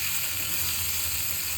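Oil heating in a home kitchen pan for cooking chicken gives a faint, continuous hiss and sizzle, close by and steady through the short moment, with no voices.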